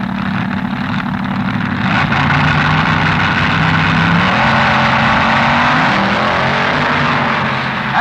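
Top fuel dragsters with Chrysler and Ford power race a semifinal at the 1967 NHRA US Nationals, a loud, continuous engine roar with rising revs holding steady throughout.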